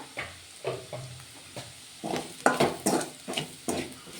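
Carrot and fenugreek curry frying in a pan with chili powder, a spoon repeatedly scraping and stirring against the pan in irregular bursts over a soft background sizzle.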